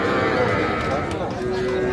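Young Sahiwal heifer calves and small bulls at a busy cattle market in Ambari, Dinajpur, a moo and a low bovine call heard amid close, loud talk and crowd bustle.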